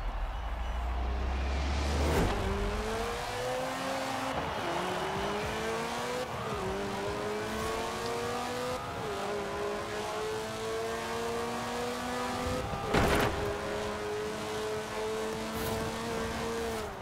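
Several cars race in the Forza Horizon 4 driving game, engines droning and shifting pitch as they accelerate through gears, with a sharp bump or impact partway through, steady and close throughout.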